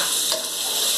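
Boneless sirloin pork chops browning in a hot pan with a little broth, giving a loud, steady hiss and sizzle that holds evenly throughout the brief moment.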